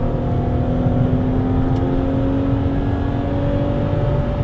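A Porsche 996 with its rear-mounted engine and a Pfister Sport exhaust, a loud, steady engine drone with a held tone that rises slightly, close by and without any talk.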